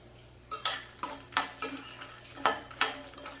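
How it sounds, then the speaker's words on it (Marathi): Makhana (fox nuts) being lightly roasted in a little ghee in a pan over low flame, with about eight distinct scraping, clattering strokes of a spoon against the pan at an uneven pace, close and fairly clear, with no talking. "त्यामध्ये मी हे मखाने थोडेसे हलकेसे परतून घेते"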